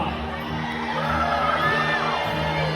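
An indoor arena crowd at a medieval-themed dinner show cheers for a welcomed visiting group, a steady roar of shouts, whoops and children's voices building slightly toward the end.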